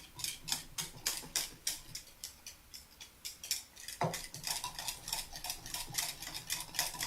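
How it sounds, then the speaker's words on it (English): Pectin and sugar whisked together in a bowl for peach freezer jam: a steady run of quick, light metallic ticks and clinks at close range, rhythmic and fairly quiet, with one louder knock partway through and no talking. "So we're just going to whisk that together"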